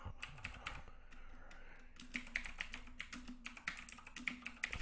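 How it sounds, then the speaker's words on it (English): Rapid clattering keystrokes on a computer keyboard, close and fairly quiet, typed in an uneven burst with no talk over it. "I'm going to have to type it in now."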